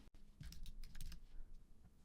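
Typing on a computer keyboard in a quiet room, a quick run of soft key clicks for about two seconds with no talking.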